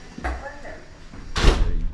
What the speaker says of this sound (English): We'll just close the door.